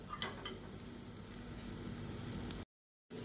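Vegetables sautéing in a pan give a steady, soft sizzle with a few stirring scrapes near the start, broken by a brief gap of silence near the end.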